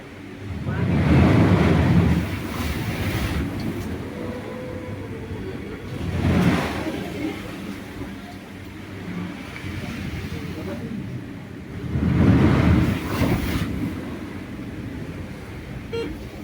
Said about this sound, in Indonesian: Melihat pencucian kereta dari dekat nih.